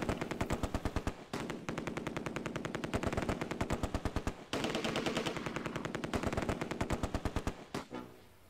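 Sustained Vickers machine gun fire in the Close Combat war game, set near Arnhem, with long rapid bursts of evenly spaced shots broken by brief pauses, loud and close, with no voices.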